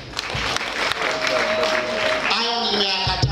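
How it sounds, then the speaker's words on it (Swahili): An audience applauds at a live event, a steady wash of clapping under a man's amplified speech, with a sustained tone swelling in the background near the end. "Ipigie makofi Eternal."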